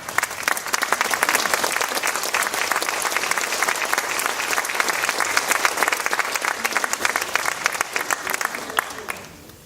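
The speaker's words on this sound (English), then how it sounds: "Would you guys stand? You deserve a round of applause." A reunion audience of Cadet Corps alumni applauds, producing dense, steady clapping that fills the room for about nine seconds before tapering off at the end.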